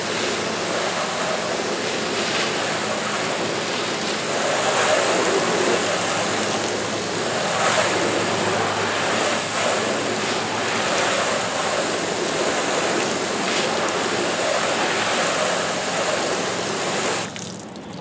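Water spray from a hose strikes a car's bare painted panel coated only with Automagic sealant, hissing as a steady, close, continuous shower for about seventeen seconds before it stops.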